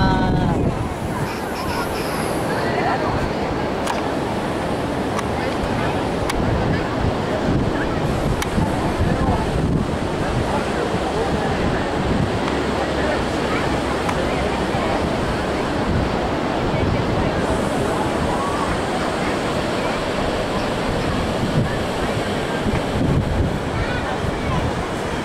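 Ocean waves and wind at Praia do Cotovelo beach in Rio Grande do Norte, a loud continuous roar of surf with heavy wind buffeting the microphone, and voices talking faintly under it.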